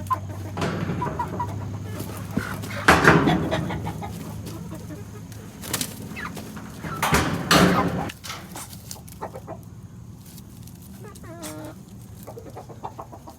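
A hen clucking among other chickens, with repeated soft clucks and a few louder bursts of squawking, close by in a coop, with some handling noise and faint voices.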